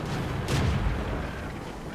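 A tank's main gun fires once in World of Tanks, a single broad boom at mid-distance rising over the steady low engine rumble of the game's battle background, then fading into continuous rumble.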